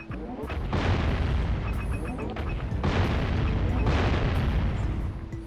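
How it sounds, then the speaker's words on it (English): Cannon fire in the Jak and Daxter video game, with repeated heavy booming blasts rolling one into another over a dense, sustained rumble of explosions, loud and continuous. "And now we can control the cannon."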